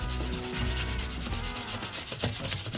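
Coarse sandpaper rubbed by hand over a model Jeep Cherokee RC truck body, a steady, close scraping rasp with repeated back-and-forth strokes and no talking.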